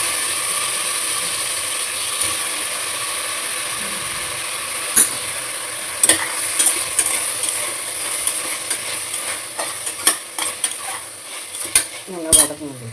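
Potatoes sautéing in a pan, a faint steady sizzle at first, then a run of sharp metallic scrapes and clinks from stirring that grow busier and louder near the end.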